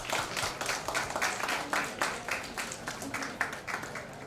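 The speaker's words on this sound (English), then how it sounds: "Claps." An audience at a state-level CA students conference in Kumbakonam claps in a steady burst of applause throughout, dense and fairly even, with faint voices mixed in.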